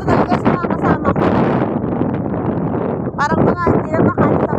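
Strong, cold wind buffets the microphone in a constant low roar, with a person talking loudly over it throughout.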